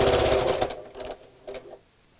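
A sewing machine stitches a small box bag with a zipper foot near a D-ring, running in short bursts: a longer run, then two brief spurts with pauses, close and fairly loud.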